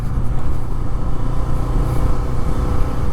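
A Bajaj Freedom 125 CNG motorcycle cruising on a road, its engine giving a steady, continuous low rumble with road and wind noise throughout, close and fairly loud.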